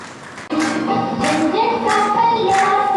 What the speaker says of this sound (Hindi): जोरदार तालियों से इन दोनों कन्याओं का हम स्वागत करते हैं।